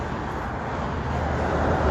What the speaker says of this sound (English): You have to excuse the noise, but this is a very busy coastal route.